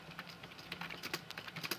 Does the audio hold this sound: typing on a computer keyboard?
yes